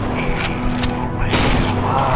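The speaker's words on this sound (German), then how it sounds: "Ich kann immer mal wieder einen Schuss abfeuern." Gunfire rings out in the horror video game Cry of Fear, several sharp, loud shots cracking in quick succession against a dense, rumbling background.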